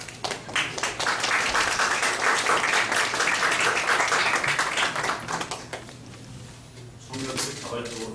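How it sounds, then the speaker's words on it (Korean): A young crowd at a political party's youth policy announcement claps in a steady, loud burst that holds for several seconds before tapering off, with a few isolated claps near the end. "청년들이 자발적으로 박수 주는 건 처음 봤습니다."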